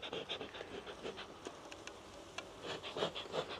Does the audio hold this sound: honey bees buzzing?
yes